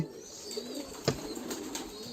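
Soft pigeon coos and a brief burst of wing flapping at a pigeon farm during feeding time, faint and fairly close, with a few short calls over a quiet background.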